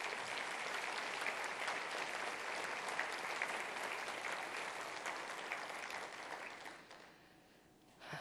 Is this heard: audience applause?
yes